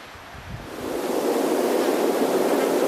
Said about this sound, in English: So windy up here, it's hard to hold the camera steady